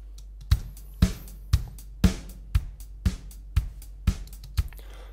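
A programmed, realistic-sounding drum pattern plays alone, with punchy kick and snare hits landing roughly every half second over a steady low bass tone and a light wash of hi-hats between the beats.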